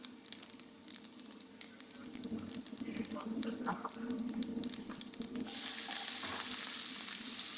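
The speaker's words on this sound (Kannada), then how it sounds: "ಬೆಳ್ಳುಳ್ಳಿ ಕೆಂಪಗಾದ್ಮೇಲೆ ಈರುಳ್ಳಿ ಹಾಕಿ." Onions go into a pan of oil where garlic has already browned, for Andhra-style dal, setting off a steady sizzle with scraping and stirring that swells louder and brighter toward the end, with muffled talk partway through.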